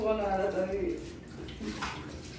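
Water sloshes and splashes in a hot spring by a river as a person gets into the hot water, a continuous close watery wash heard under someone talking.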